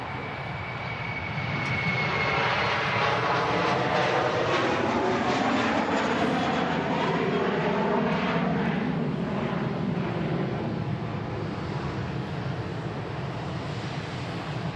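A Kuwait Airways Airbus A330neo takes off at Manchester Airport, its engines building into a broad, sustained roar heard from a distance that holds for many seconds and fades slightly at the end, with no talk.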